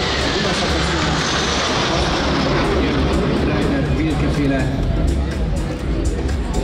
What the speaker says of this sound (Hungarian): az Alfa Jetek még egyszer átúznak itt a parlament fölött